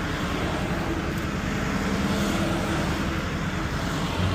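Cars pass by on the road, a steady broadband whoosh of traffic rising slightly toward the end, heard close and loud with no talking.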